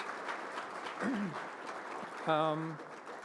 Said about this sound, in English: I just want to applaud you for everything that you do